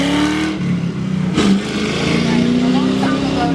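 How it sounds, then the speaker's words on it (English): A loud car passes close by, its engine rising and roaring in a broad sweep that rumbles over a steady background, while people talk under it. "Start over, because the car was loud."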